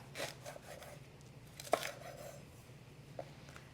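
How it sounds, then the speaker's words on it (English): A knife cuts through a leek on a cutting board, trimming the end and halving it lengthwise. A few faint, crisp chops and taps stand out against a quiet room with a low steady hum. "I'm going to cut off the end, slice it down the middle in half."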